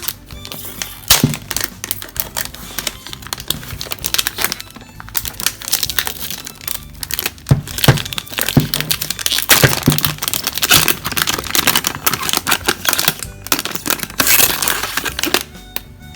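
A small clear acrylic drawer box with magnets on its sides, meant for holding pens, is unwrapped, giving loud close crinkling, crackling and tearing of packaging that continues without pause and without talk.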